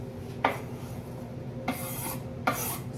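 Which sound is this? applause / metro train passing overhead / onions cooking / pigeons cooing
onions cooking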